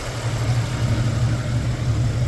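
A Jeep YJ Wrangler 4.6 stroker engine with stainless headers and stock exhaust idles steadily up close, a deep, even rumble with a low droning note and no talking.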